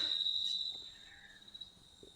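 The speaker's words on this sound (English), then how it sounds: "They're making their cricket noises. Those are indeed crickets." Crickets chirp at night in Australia, a steady high trill that is loud at first, then fades to fainter chirping with a few soft rustles and no voices.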